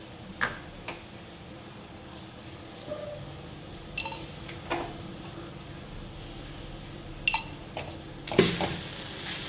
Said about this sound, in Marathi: आता छान हलवून घ्यायचं आहे